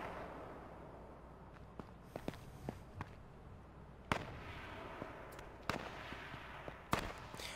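Gunfire in the battle royale game H1Z1, scattered sharp shots with a few louder cracks over a quiet background of faint movement, no talking.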